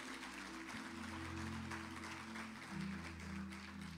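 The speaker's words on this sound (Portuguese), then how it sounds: "Você pode aplaudir ao Senhor por isso" A church congregation claps together in a steady, dense wash of applause that lasts throughout, with sustained musical tones humming underneath.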